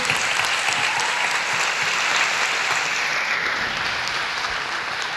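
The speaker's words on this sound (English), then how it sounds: "So a round of applause to all of them." A large audience at the Cannes Lions awards ceremony applauds the award winners with dense, sustained clapping that fills the hall steadily for several seconds.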